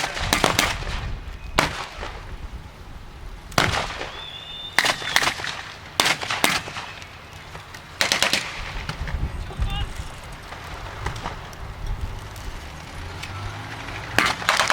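Browning automatic rifle firing blanks at Tankfest 2025, an outdoor military vehicle show: repeated sharp bursts and single cracks ring out at irregular intervals across the field, some loud and close, others softer, with crowd and ambient noise between.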